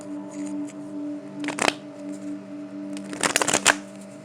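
Two quick bursts of tarot cards being shuffled, riffling crisply against a low steady hum, with a quiet pause between them.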